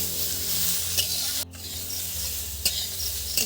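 Mixed vegetables for home-style chowmein stir-frying in a hot pan with salt, a continuous crackling sizzle with scraping spatula strokes and a couple of sharp metallic knocks.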